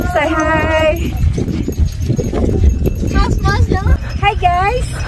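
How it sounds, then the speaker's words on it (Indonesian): A horse ride at Mount Bromo in Indonesia, with hoof clip-clops and jangling tack mixed into a busy outdoor scene, while a whinny-like call and excited voices talking rise over the top. "Kita sekarang mau ke candi sana naik kuda"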